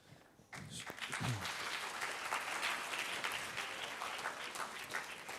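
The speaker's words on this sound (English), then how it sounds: "the students are clapping, the teachers are clapping, obviously, but the students are clapping as well" Students and teachers in an auditorium break into applause after a pause, dense steady clapping from a large crowd that stays even and fairly loud for about five seconds.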